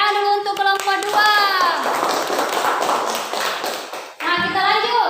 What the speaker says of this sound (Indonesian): Ya silakan nak, tepuk tangan dulu untuk kelompok 2.